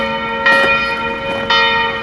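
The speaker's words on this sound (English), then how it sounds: "you've got a bell going off over here." A bell rings twice at a memorial site near Dachau, two evenly spaced bright strikes over a steady humming background.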